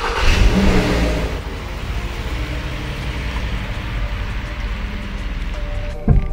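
A new Subaru BRZ with a 6-speed automatic gearbox starts up with a loud burst, then its engine revs and runs steadily close by for several seconds, with a faint rain-like patter in the background.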